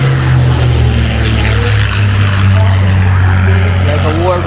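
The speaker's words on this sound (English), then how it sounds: "Like a World War II aircraft." A World War II propeller airplane flies over an airshow, its loud, steady engine drone holding throughout with a strong low hum and slight swells as it passes; voices can be heard faintly beneath.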